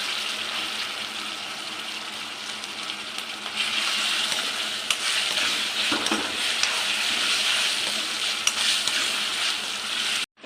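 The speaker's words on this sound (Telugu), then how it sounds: "ఫస్ట్ అదే వేసేసుకొని ఫ్రై చేసుకోవాలి ఒక 2 మినిట్స్" Mutton bones fry in a pan with a continuous loud sizzle and crackle, broken by brief stirring knocks, near and steady throughout.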